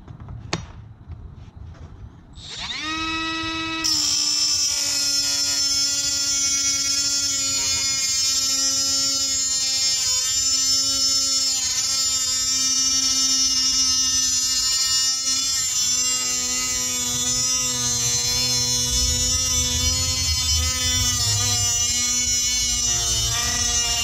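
A Milwaukee M12 Fuel 3-inch cut-off tool spins up and grinds steadily through half-inch stock, a loud, sustained high-pitched whine with a slight pitch dip partway through the cut.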